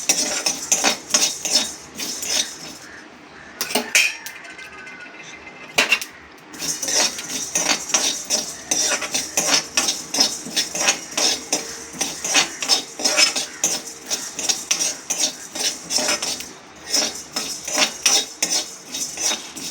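Coriander seeds and black pepper dry-roasting in a pan while a utensil keeps stirring them, a steady, rhythmic rattling scrape with dry seeds skittering across metal and two brief pauses.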